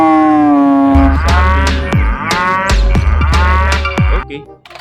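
Loud, close cow moos, a long drawn call followed by several shorter repeated lowing bursts with sharp percussive hits between them, ending in a fading tail.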